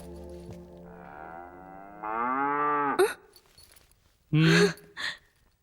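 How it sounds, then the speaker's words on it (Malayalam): A cow moos in long drawn-out lowing calls, close and clear, first a rising moan and then a stronger bellow, followed by short breathy vocal sounds and brief human exclamations. "പശു."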